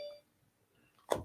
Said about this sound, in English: That's my phone went off.